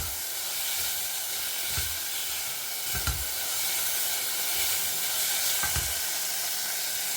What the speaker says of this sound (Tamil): தக்காளி நல்லாவே சாஃப்டாகிற வரைக்கும் வதங்கணும்